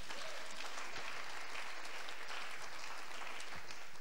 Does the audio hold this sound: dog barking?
no